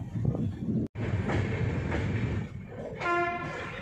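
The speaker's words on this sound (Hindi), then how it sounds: "ट्रेन ना अब मेल वाले ट्रैक पे अंदर घुस चुकी है" The Lokshakti Express runs along the track near Bandra, its steady rumble and wheel clatter filling the clip before a loud horn sounds near the end.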